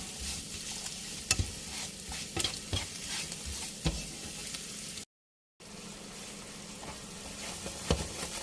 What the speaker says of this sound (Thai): เคี่ยวน้ำตาลนะคะ ให้เขาละลายดีนี่นะคะ